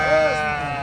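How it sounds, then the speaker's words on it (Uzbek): Sheep bleating at a livestock market in Muzrabot, Surxondaryo, a single drawn-out, wavering bleat close by, with crowd chatter and market noise underneath. "Umid Rashidov bu qo'ylarni ko'rsating."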